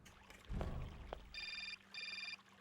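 Two short bursts of an electronic phone ring in the video game Syberia, trilling rapidly, follow a couple of soft thumps; quiet and synthetic-sounding.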